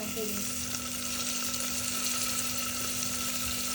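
Masala khichdi fries steadily in a pan after tomatoes are added. A close, continuous sizzle runs throughout with a faint stirring texture, and a steady hum sits underneath.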